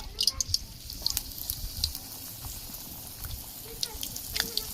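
Fuchka puris dropping one at a time into hot white oil in a karahi, giving a soft, low sizzle with faint crackles that rises and falls under a quiet room background.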